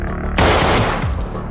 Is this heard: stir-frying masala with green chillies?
no